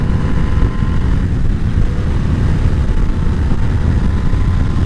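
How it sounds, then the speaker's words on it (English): A Harley-Davidson Sportster S V-twin motorcycle in fifth gear pulls steadily under throttle, a loud, continuous low engine drone with rushing wind noise, close and alone. "So I'm on 5th gear. I simply just have to give it throttle and it will go."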